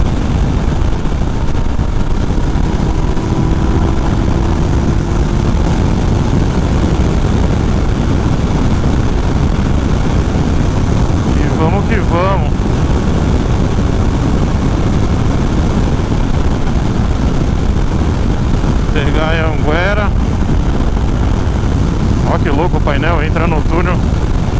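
A Yamaha Tracer 900 GT motorcycle is ridden in its restricted B power mode, its engine and wind roar loud and constant throughout, with brief rising whines of passing traffic breaking through now and then.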